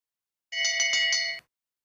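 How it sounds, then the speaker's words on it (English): A bell rings rapidly for the final lap of a long track speed skating race at an international meet, a single bright, close burst of fast metallic strokes lasting under a second, followed by silence. "Got a bell lap for Boyce and Emblem."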